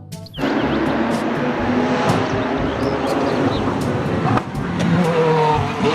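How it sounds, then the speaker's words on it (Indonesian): Race car engine from a kids' vehicle-sounds compilation, a loud, steady motor roar that holds for several seconds with a brief dip near the end, alone without talk. "Mobil balap."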